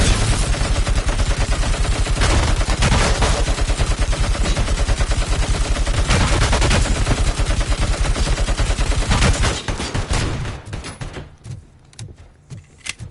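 Sustained rapid automatic fire from an AUG assault rifle in the video game RoboCop: Rogue City, a loud, dense rattle of shots for about ten seconds that then breaks up into scattered bursts and fades.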